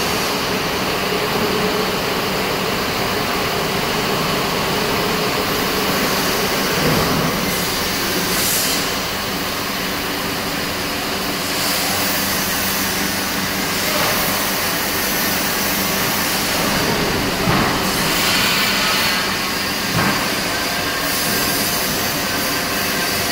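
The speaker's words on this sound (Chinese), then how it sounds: "点动开关，将线从放行机自动推送出来" Wire pay-off machine pushing out aluminum alloy wire on a shaving and straighten-cutting line, a steady loud mechanical roar with a metallic high-pitched whine and occasional clanks, continuous and close.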